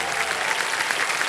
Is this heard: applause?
yes